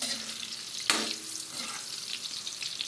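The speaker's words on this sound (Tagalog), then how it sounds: "iprito muna ang carrots" Carrots frying in plenty of oil in a pan, a sharp burst of sizzle as they hit the hot oil, then a steady crackle close by with no talking.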